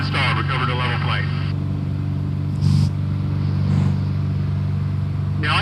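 A light aircraft engine held at full power during stall recovery, a loud steady droning hum with deep harmonic tones throughout, heard from inside the cabin with a voice talking over it.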